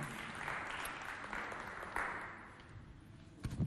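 A hall audience claps loudly for three jury members on a stage, a dense burst of applause that eases off slightly before a few final sharper claps.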